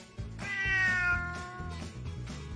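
A cat lets out one long, drawn-out meow that rises and then falls away, heard close and clear over quiet background sounds.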